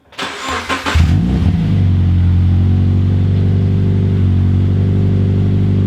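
A Toyota 86 with a muffler delete fires up with a short burst of cranking, then settles into a loud, steady, deep exhaust drone close by, with no talking.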